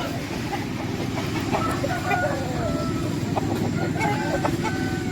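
Roosters of a breeding stock in a farm garden crow and cluck against a dense, steady background din, calls overlapping at moderate distance with no clear talk.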